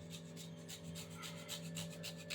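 Gondhoraj lemon zest grated by hand in a kitchen, a steady close rasping scrape that repeats in quick strokes over a constant low hum.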